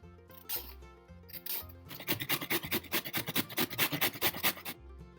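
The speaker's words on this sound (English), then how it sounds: "and grate the carrots." Carrots are rubbed against a grater for carrot cake: a few slow scrapes, then a quick, steady run of about fifteen rhythmic grating strokes, close and fairly soft, with no talking.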